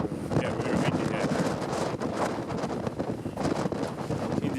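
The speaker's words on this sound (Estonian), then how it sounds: "Yeah, very windy here." Strong gusting wind of about 22 metres per second at Kallaste beach in Estonia, roaring and buffeting the microphone loudly and continuously, with faint surf underneath.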